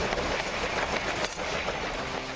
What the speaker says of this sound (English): caught the train home again